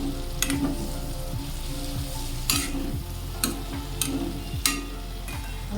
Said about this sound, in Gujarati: હવે આપણે મિક્સ કરી લઈએ. જોઈ શકો છો તમે તેલ ઉપર આવી ગયું છે.